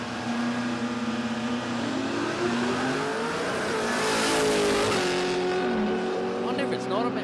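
Manual-transmission drag racing car accelerating hard down the strip at Palmyra Raceway, a steady rising engine roar with harmonic tones sweeping up through gear changes, loud and continuous, with a voice talking over it.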